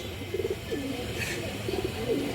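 Black pigeons for sale coo in soft rolling phrases, repeated twice over a steady background hum.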